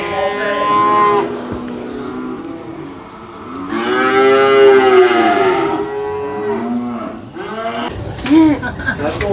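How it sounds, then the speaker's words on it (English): Calves mooing from pens at a busy cattle auction, several drawn-out bellows with voices chattering under and between the calls, fairly close and loud. "we have several pens of calves in here that we're selling"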